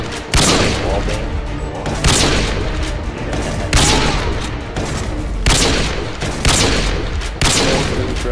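Loud bursts of rapid gunfire from a first-person shooter video game repeat in heavy volleys roughly every one to two seconds, dense and booming throughout.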